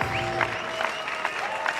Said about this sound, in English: they all clap along to that